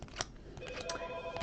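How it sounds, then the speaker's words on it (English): An indoor telephone rings during a sports card break, steady electronic ringing tones at moderate loudness over room noise, with no one speaking. "And I know that's the phone ringing."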